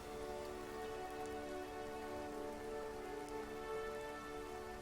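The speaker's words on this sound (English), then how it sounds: "And it's raining." Steady, even rainfall pattering on surfaces in the video game Dreams in the Witch House, a continuous dense hiss at moderate level with no voices over it.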